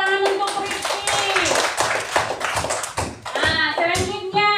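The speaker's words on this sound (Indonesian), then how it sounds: "Tepuk tangan untuk Rifki." Students clap for a classmate in a classroom, a run of quick hand claps heard beneath an adult's voice and children's chatter, louder in bursts between the spoken lines.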